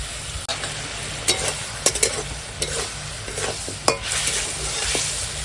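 Pieces of yam (ol) sauté in a pan with chili powder, green chili, turmeric and salt, giving a steady sizzle while a spoon scrapes and stirs in occasional sharp clicks, close and alone without talk.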